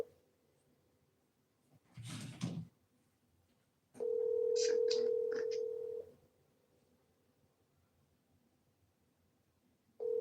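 A landline telephone call is being placed: a short burst of dial noise, then a steady tone with a few DTMF keypad beeps over it, followed by a pause and another ringback tone beginning at the end, with faint room noise between.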